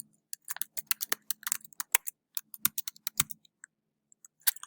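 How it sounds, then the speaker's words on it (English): Close computer keyboard keys clatter in quick irregular bursts as a journal title is typed, crisp individual clicks separated by short quiet gaps. "So I'll type my journal title into Locate"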